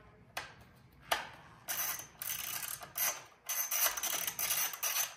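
Bolts are tightened on an E-Ride Pro SS electric bike, making close mechanical ratcheting bursts of varying length separated by short pauses and growing denser toward the end.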